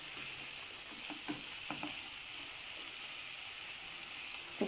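Prawn gravy cooks over a full flame, giving off a soft, steady sizzle while a spoon stirs it with a few light scraping clicks. The sound is fairly faint and close.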